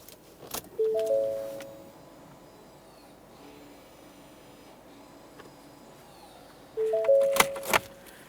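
A 2013-2020 Ford Fusion's ignition key is switched off and back on: a jingle of keys and a short electronic chime come early, then a quiet stretch, then another jangle and chime near the end.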